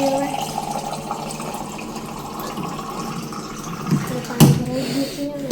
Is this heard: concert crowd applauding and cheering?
no